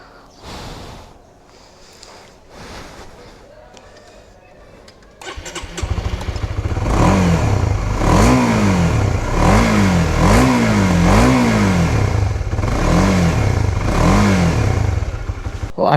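A Honda CBR 150R motorcycle's engine cranks, catches and settles into a steady idle, then is blipped through a series of short, punchy revs, loud and close with no talking.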